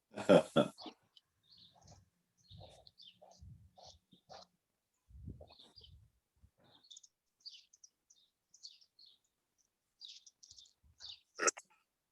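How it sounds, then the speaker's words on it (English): Scattered high, thin chirps from birds come and go across the clip, with a few low thumps and a loud burst at the start and near the end. "I hear birds"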